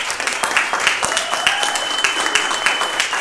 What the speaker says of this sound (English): a round of applause for Erica